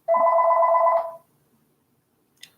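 A house telephone rings once, a loud electronic warbling trill lasting about a second, then silence with a faint click.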